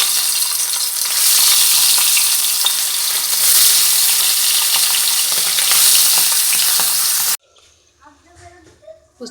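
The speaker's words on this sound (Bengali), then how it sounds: "আর এখানে তেল গরম করে নিয়েছি পুঁটি মাছ ভাজার জন্য। এখন পুঁটি মাছগুলো ভেজে নেব।" Puti fish frying in hot oil, a loud, steady sizzle and crackle that fills the pan, then cuts off abruptly into quieter kitchen sounds near the end.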